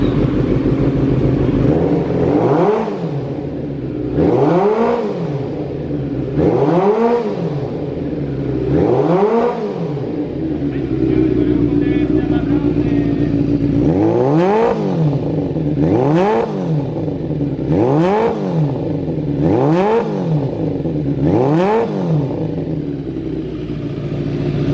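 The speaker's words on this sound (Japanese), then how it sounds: "ではエンジンの方ですね、始動していきます。" A Kawasaki ZRX400 motorcycle with a black four-into-one exhaust starts and then revs up repeatedly, loud and close, with rhythmic throttle blips rising and falling and a steady idle between them. No voices.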